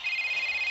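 A phone rings in the Rope Hero video game as a short, bright electronic trill of rapid, evenly pulsed beeps.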